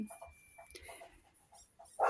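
A pet dog barks indoors, with soft yips and whimpering sounds that rise to a louder, closer bark at the end.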